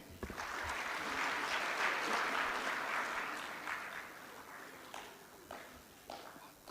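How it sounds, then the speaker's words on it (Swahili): Dense applause from a crowd at a public government ceremony in Tanzania, loud and sustained for several seconds before thinning into scattered claps toward the end. "Ndio hao, makofi mengi."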